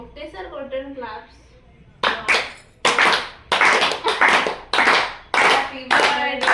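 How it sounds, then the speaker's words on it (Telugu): Several people at a family birthday celebration clap together in loud, close bursts, each a run of sharp hand claps with short gaps between, following a stretch of soft voices. "ఒకటేసారి కొట్టండి క్లాప్స్"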